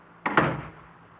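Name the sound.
door closing in a radio drama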